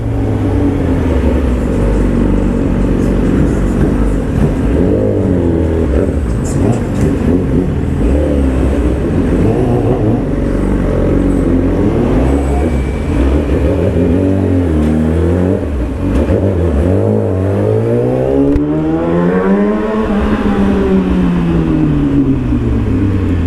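A motorcycle exhaust revs up and down repeatedly, its pitch rising and falling in sweeps, loud and close throughout with no talking.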